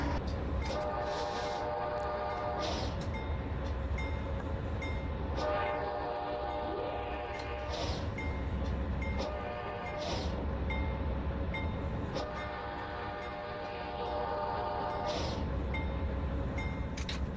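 Norfolk Southern locomotive 8520 approaching a residential crossing at low speed, with repeated loud horn blasts over a steady engine rumble, close and sustained.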